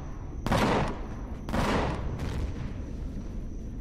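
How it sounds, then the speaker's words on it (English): Enemy gunfire in the space survival game Empyrion Galactic Survival: two heavy, booming bursts about a second apart, then a weaker third, each crackling and loud before trailing into a steady hum. "Oh, he's shooting at me"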